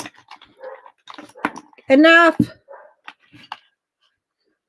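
A dog named Kai gives a short, loud bark-like burst midway, close by, between stretches of someone talking.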